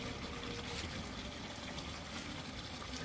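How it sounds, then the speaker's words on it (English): Water running steadily into a container for washing a car, a soft continuous gushing fill with no breaks, faint and even throughout. "So let my water get filled up."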